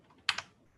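A single press of the F3 key on a computer keyboard gives a quick, quiet double click, down and release, in near silence.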